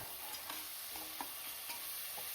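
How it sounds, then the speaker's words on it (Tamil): Onions and biryani spices fry in hot oil with a constant close sizzle, broken by regular scraping strokes as the pan is stirred. No voices are heard. "எண்ணெய் ஊற்றிட்டு வெங்காயம்லாம் போட்டதுக்கப்புறம் பிரியாணி ஸ்பைசஸ்லாம் ஆட் பண்ணியிருக்கேன்"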